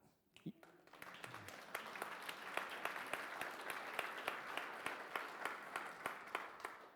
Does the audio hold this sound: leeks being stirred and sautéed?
no